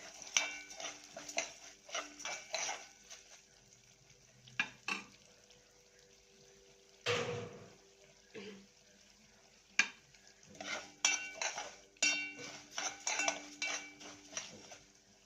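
Dry rice grains stirred and toasted in a pan for an onion chicken tray dish, with a metal spoon scraping and clinking in irregular bursts over a soft sizzle and scattered quiet pauses.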